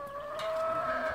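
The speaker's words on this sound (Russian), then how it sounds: "Куры гуляют." Chickens out walking around a yard with their young, giving soft, low clucks and a faint steady call over a quiet background, with no talking.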